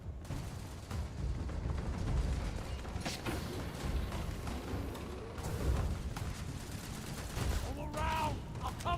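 Rapid bursts of gunfire from a Starfield firefight run dense and loud across the whole stretch, with a few sharper shots standing out, and voices talk over the shooting.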